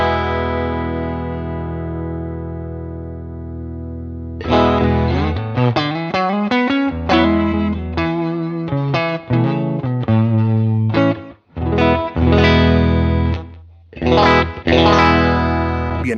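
Electric guitar, Strat-style tone, played through a UAD Enigmatic '82 Overdrive amp in jazz mode: a long sustained chord, then a lively run of picked notes and chords with slight breakup, loud and close.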